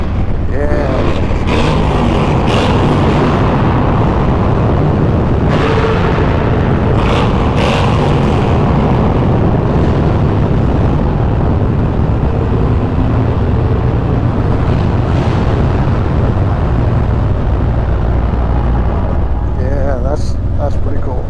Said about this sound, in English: Who doesn't like riding motorcycles through a tunnel?